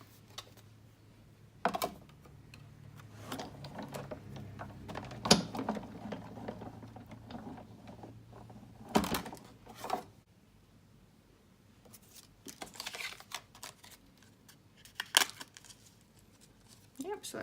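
A die-cutting machine feeds a paper frame through, giving intermittent mechanical clicks, ratcheting and rolling clatter in separate bursts, with quiet handling noises between them and a person talking alongside.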